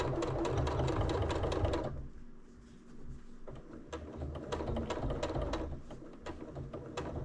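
A sewing machine back stitches along a small zippered box bag, running in quick bursts of rapid needle clatter with a brief pause and slower stretch midway, close and loud with no talk.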